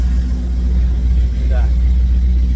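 A 1962 Chevy's engine with a custom exhaust rumbles deep and loud at a steady pitch, close by, with muffled voices underneath.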